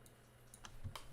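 Faint, sparse clicks of a computer keyboard being typed on, a few scattered keystrokes over quiet room tone.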